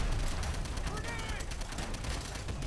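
Machine gun fire in Call of Duty World at War, a rapid steady stream of shots that runs throughout, fairly quiet and mixed with game noise.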